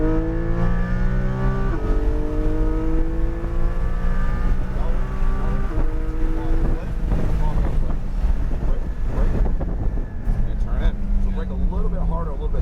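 A Porsche Cayman GT4 flat-six at full throttle on the Autobahn Country Club track, rising harmonic engine tones climbing in steps through gear changes under heavy wind noise, with a driving coach speaking over it.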